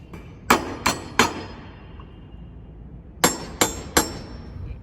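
Two sets of three sharp metallic knocks on a brass door knocker, a pause between the groups, ringing briefly against a quiet room.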